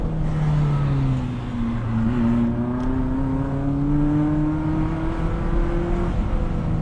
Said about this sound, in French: Voilà, petit débrayage, ça fait du bien ça.